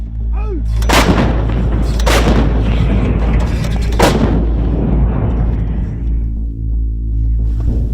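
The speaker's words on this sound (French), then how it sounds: "tirer une salve de 12 obus sur les positions rebelles" César self-propelled cannons and mortars fire a salvo of shells at rebel positions during a military operation, with several loud, sharp blasts and booms that echo and rumble into a long tail.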